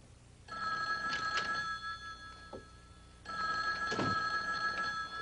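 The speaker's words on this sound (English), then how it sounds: "Mark, it's the phone." An old-style telephone bell rings in two bursts separated by a short pause, a bright trilling ring at moderate distance indoors, with faint background movement and no talking.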